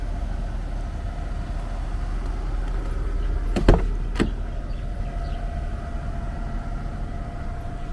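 A BMW E39 523i idles running on gas, giving a steady, even engine hum with a couple of brief sharp clicks near the middle.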